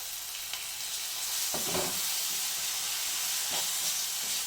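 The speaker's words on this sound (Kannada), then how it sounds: "ಈಗ ನೋಡಿ, ನಾನು ಸ್ವಲ್ಪ ಬಟರ್ ಹಾಕಿದ್ದೀನಿ." A spoonful of butter sizzles steadily in a hot pan for a chicken dish, with a constant frying hiss and a few louder crackling bursts from stirring, close and without talk.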